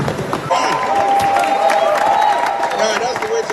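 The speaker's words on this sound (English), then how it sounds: "A round of applause for him, ladies and gentlemen." An audience claps and cheers for an honorable guest at a gym event, a sustained wash of applause with a voice talking over it and a steady high tone running through.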